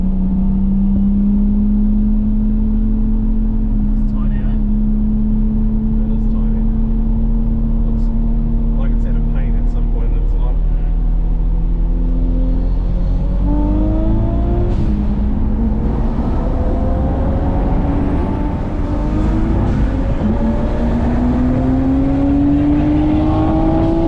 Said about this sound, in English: R33 GTR putting out like 350 kilowatts, really capable car, twin turbos.